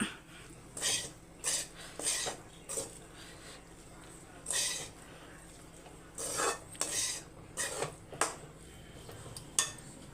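A spoon mixes a cooked dish in a metal pot, making a series of irregular clinks and scrapes against the pot, fairly close and moderate in loudness over a quiet background.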